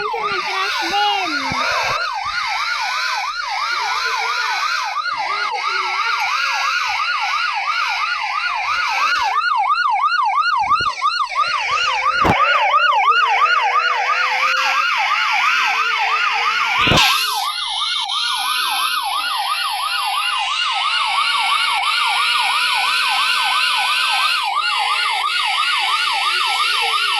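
A crashed ambulance in a Roblox driving game blares its siren, a fast repeating electronic wail cycling steadily and loudly for the whole stretch, with a few short clicks and bursts of game noise.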